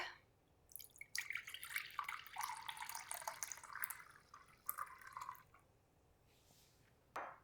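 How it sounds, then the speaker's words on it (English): Chicken stock poured into a hot pan for deglazing, a soft splashing, trickling flow lasting several seconds before tapering off, quiet and close with a brief clink at the end. "I'm gonna pour in 1 cup of chicken stock."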